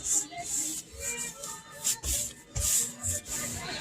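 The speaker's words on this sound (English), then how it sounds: "So, get the paint on all the edges because we're still trying to cover the edges." A paintbrush is dragged along the edges of a kitchen cabinet, making soft, repeated rubbing and swishing strokes. The sound is quiet and close, with no voices.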